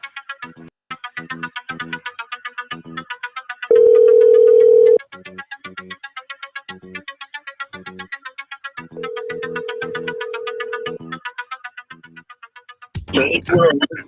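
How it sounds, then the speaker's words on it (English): A telephone call being placed: a rapid run of dialing beeps in bursts, broken by two long steady tones, then a short loud crackle at the end, clear and close. "Let's make that call to the father, guys."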